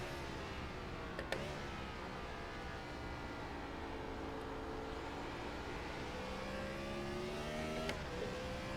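Race car engine from a Gen 4 racing video game at Martinsville, droning steadily through the clip with rising and falling pitch as it revs between gear shifts, with a couple of sharp shift clicks.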